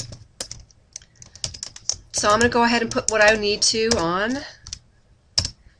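Computer keyboard typing while text is entered in Photoshop Elements 12: scattered quick key clicks at the start and end, with someone talking through the middle.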